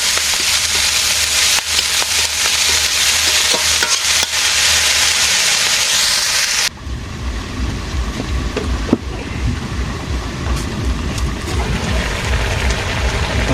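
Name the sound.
frying small fish with hinchi greens in a pan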